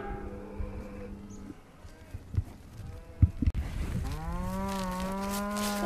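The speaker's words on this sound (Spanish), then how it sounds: "aquí estamos viendo alguna vaca y algún ternero pequeñito ahí" Cows and small calves at a national livestock market, with a low moo near the start, then quieter shuffling and knocks before a loud, sustained bellow rises and holds to the end.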